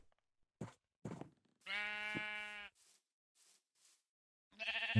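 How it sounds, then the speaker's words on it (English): Sheep bleat in a Minecraft farm, with several short separate calls and one longer drawn-out baa, sharp and clear against silence, no talk. "At least we got some sheep."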